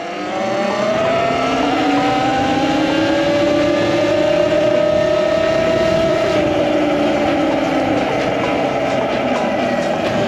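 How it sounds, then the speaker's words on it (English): A motorcycle ridden through San Francisco streets at around 30 mph, its engine running loud and unusually noisy: a continuous close drone with a slowly rising and falling pitch, with no speech over it. "I also have a hard time figuring out if this bike is just still way too loud, louder than it should be"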